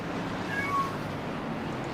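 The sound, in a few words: cat meowing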